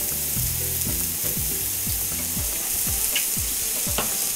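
Mushrooms fry in a pan just after a little oil is added, giving a steady close sizzle with utensil scraping and stirring and no voices.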